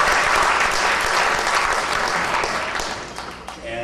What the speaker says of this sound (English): Oh, you can applaud those guys anytime.